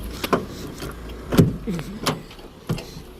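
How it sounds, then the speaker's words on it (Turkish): A car's electric power window winds shut on a dusty road, giving a few short mechanical clicks and brief motor bursts, close and fairly quiet, with no talking. "Penceremi kapatayım çünkü içeriye toz doluyor."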